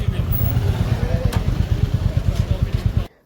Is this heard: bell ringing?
no